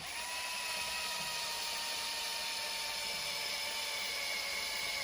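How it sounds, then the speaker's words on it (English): Dry sanding a Chevy truck gauge cluster with 800 grit sandpaper, giving a continuous, fairly loud high-pitched whir, close by and alone with no talking. "we're going to sand out the 500 grit scratches and replace them with 800 grit scratches"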